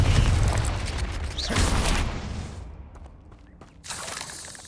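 Blasting-spell explosions in the Hogwarts Legacy video game: heavy booming blasts with crackling debris, a loud burst that fades out, then another sharp blast near the end.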